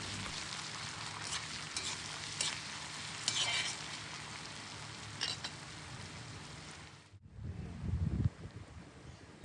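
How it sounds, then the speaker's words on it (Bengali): Onion with ginger-garlic paste sizzles and is stirred in an iron wok over a clay stove, a steady frying hiss with scraping strokes, loud and close, no voices. "আদা রসুনের পেস্ট দিয়ে পেঁয়াজের সঙ্গে ভালোভাবে নেড়েচেড়ে এমনভাবে কষিয়ে নেব যেন আদা রসুনের গন্ধ দূর হয়ে যায়।"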